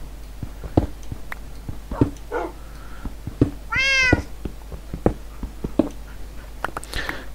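A cat meows once in Minecraft, a short, clear wavering cry among regular game footstep-like taps and clicks, with no talk.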